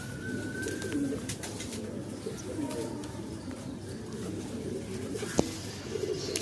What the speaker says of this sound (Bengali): আর এই যে টোটাল পায়রাটাকে দেখুন একবার